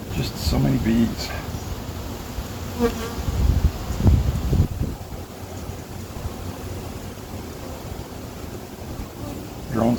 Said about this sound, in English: Just so many bees.